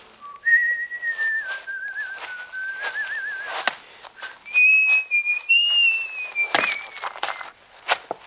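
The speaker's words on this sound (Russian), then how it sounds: "В одном месте он насвистывает арию «Альта» из «Страстей по Матфею Баха»." A man whistles the alto aria from Bach's St Matthew Passion in the film Stalker (1979), a clear wavering melodic line with short breaks, over faint footsteps and ambient clatter.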